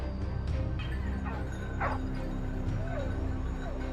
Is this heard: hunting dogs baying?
yes